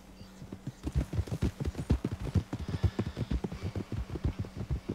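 Massive draft horse hooves in the video game Red Dead Redemption 2, a steady, close clip-clop of heavy footfalls in a quick rolling rhythm, each strike distinct and thudding, with no talk over them.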